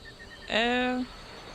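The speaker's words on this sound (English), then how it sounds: "Quick, while Cheap Cheap's distracting the bees" In the fantasy adventure game The Book of Unwritten Tales, a short buzzing swell of bees rises abruptly, holds for about half a second, then cuts off, with faint chirping tones just before.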